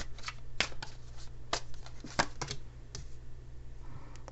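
Chinese tarot card deck being shuffled, a run of crisp riffling snaps and soft slaps, close and fairly quiet, irregular bursts over a faint low hum.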